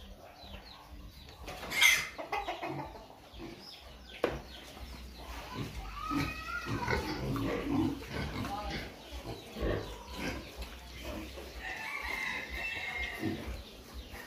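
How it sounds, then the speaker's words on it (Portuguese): A distinctive rooster on a farm in Goiás, Brazil, crows and clucks amid other barnyard animals, with people talking over much of the scene. "Esse galo diferenciado."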